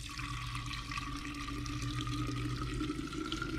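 Gasoline draining from the fuel filters of an old Yamaha 115 HP outboard boat engine during a 100-hour service, a steady continuous pour with a hum underneath, close and fairly loud throughout.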